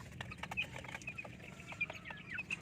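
Chicks and chickens chirp and cluck in a coop, with soft, repeated peeps layered over a low, busy background of fowl.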